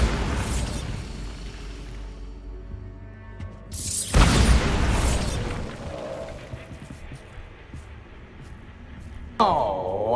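A Bombarda spell explosion in the game Hogwarts Legacy, a sudden close booming burst that rumbles and decays, with a sharp sweep and a later impact, and a voice speaking in places.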